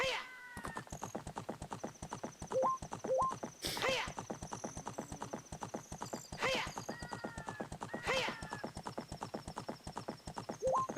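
Epona in Zelda: Ocarina of Time gallops with quick, even clip-clop hoofbeats throughout, broken by several loud whinnies and neighs at intervals, plus occasional game chimes and sound effects.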